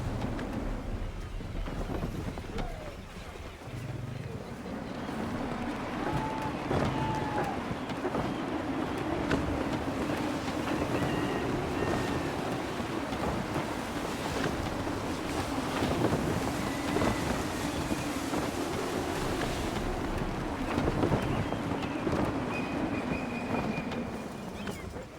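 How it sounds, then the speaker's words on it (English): Gusty wind and a sailing ship at sea in Assassin's Creed III, set in 1773, with a steady roar of wind and creaking hull and water noise. It runs loud and continuous, with no talk. "Wind looks to be shifting. Stay alert, Connor. Gusty winds can be difficult to manage."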